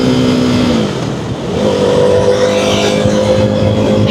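A KTM Duke 390 motorcycle (2015–2022 model, fitted with an upgraded clutch) runs close by, its engine droning and then rising in pitch as it revs, loud and steady, with no voices.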